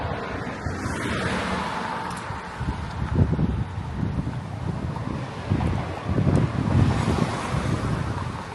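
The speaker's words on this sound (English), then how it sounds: "it's pretty windy out." Wind blows outdoors in a small part of Brazil near Cuiabá, a steady broadband rush buffeting an unshielded microphone, with stronger gusts swelling around the middle and near the end.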